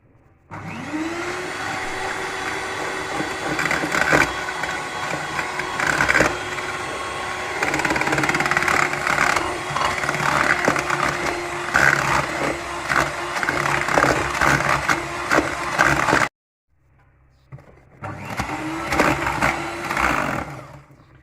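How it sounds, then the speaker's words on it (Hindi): An electric hand mixer whirs steadily while beating three eggs until creamy for a tea cake made without an oven. The tone shifts as the beaters move, then stops briefly and starts again. "ये देखें, इसको 5 मिनट बीट करना है अच्छी तरह।"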